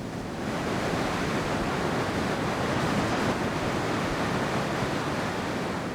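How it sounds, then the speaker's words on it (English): A rain-swollen river flows under the bridge between Rwanda and Tanzania, a loud, continuous broadband rush of churning water, steady and unbroken, with no voices. "A rain-swollen river flows under the bridge connecting Rwanda to Tanzania."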